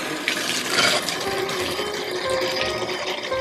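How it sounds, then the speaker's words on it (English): Tap water runs into a freshly cleaned bathtub at home, a steady splashing gush that stays close and fairly loud throughout with no talk over it. "now it's all working and clean. Okay, let's put in some water."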